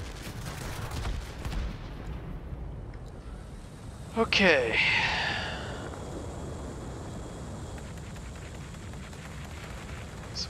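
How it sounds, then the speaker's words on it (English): In the video game World of Warplanes, a Messerschmitt Me 209 A's aircraft cannons fire one short, rapid, cracking burst near the middle, over a steady engine drone, with a brief spoken word earlier. "These cannons overheat quickly."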